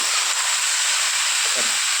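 Oil sizzling steadily in a kadai over heat, a continuous bright hiss with no breaks and no voices.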